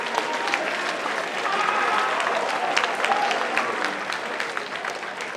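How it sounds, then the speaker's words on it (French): Audience members at a multicultural school show applaud students who prepared food, a full round of clapping at moderate level that swells and then eases, with scattered crowd noise. "On les applaudit aussi."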